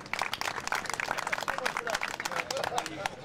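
An audience applauds at a Joint Special Operations University groundbreaking news conference, a quiet but continuous patter of many hands clapping, with voices murmuring beneath it.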